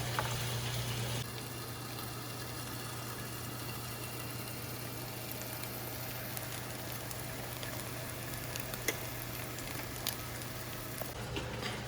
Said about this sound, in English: dip it on both sides and then throw into a frying pan with some olive oil